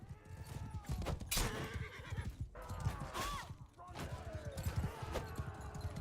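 Horses neigh and hooves clip-clop in a Mount & Blade II: Bannerlord battle, repeated whinnies over busy fighting noise, with a player talking throughout.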